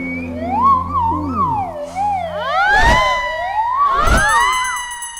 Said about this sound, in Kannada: ಸೈರನ್ ಸುರಾಯ್ತಲ್ಲಪ್ಪ.